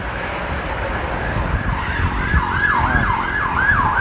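Emergency vehicle sirens wail steadily in a rising and falling pattern, moderately loud over constant road traffic rumble near a car detailing shop.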